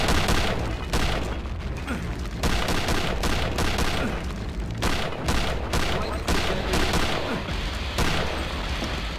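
Grenade explosions and dense gunfire from the Return to Castle Wolfenstein video game, loud and continuous, with overlapping bursts and booms filling the whole stretch.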